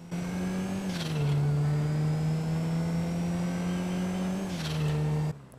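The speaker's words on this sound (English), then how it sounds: "when you start driving this car, you'll realize it's super loud blow off" A loud car engine from GTA Online drones steadily, with two gear shifts each marked by a sharp hissing turbo blow-off burst before the revs settle back into a constant roar, then cuts off abruptly.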